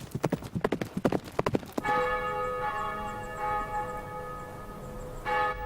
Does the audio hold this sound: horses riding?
yes